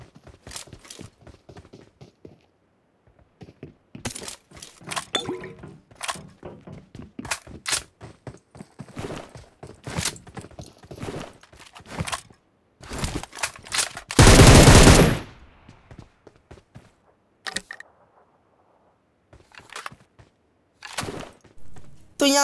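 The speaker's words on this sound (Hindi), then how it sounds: "तो बोट को मार देते हैं 6x लगा के, वो भी M762 में।" M762 assault rifle gunfire in the mobile battle royale game BGMI: many short, sharp bursts of rapid shots separated by quiet gaps, plus one long, loud sustained spray near the middle.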